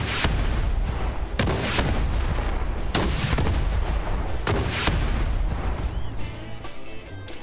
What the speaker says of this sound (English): I think I'll use the rifle for this one.